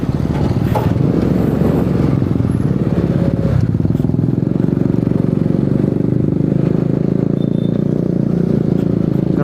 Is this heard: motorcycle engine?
yes